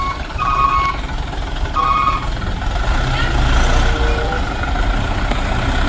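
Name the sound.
toy yellow dump truck reversing beeps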